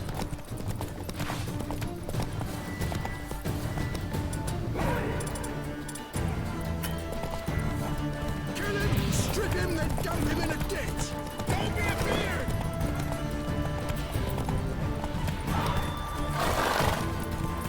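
Horse hooves clip-clopping at a gallop, with neighs and whinnies, from the horse Roach in The Witcher 3: Wild Hunt, heard steadily over game music and sound effects while someone talks.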